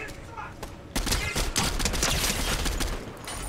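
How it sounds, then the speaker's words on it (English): Rapid gunfire from the video game Fortnite Zero Build starts abruptly after a quieter stretch and continues as a dense, loud burst of overlapping shots, close by and sustained for several seconds. "I'm being shot at."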